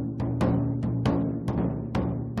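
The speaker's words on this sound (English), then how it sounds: "That is the sound of the taiko, Japan's traditional drum." Japanese taiko drums struck in a steady, evenly spaced pattern, each booming hit landing on a sustained low rumble, fairly distant and with no voices.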